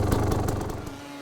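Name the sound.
motoball motorcycle engine running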